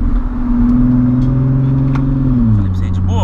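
A car driven by a friend accelerates with a steady engine drone that rises, then drops as it shifts, heard from inside the cabin while people talk over it.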